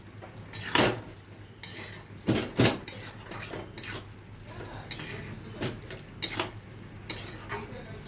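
Metal pot and lid clatter on a stovetop while rice and banana flower cook for ghonto, several sharp clinks and knocks scattered among quieter scraping, close and fairly loud.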